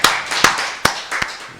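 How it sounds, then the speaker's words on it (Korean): A church congregation at a Wednesday worship service claps four times in a steady unison rhythm, each clap sharp, close and loud, with short gaps between. "우리 박수를 하나님께 영광 드리겠습니다."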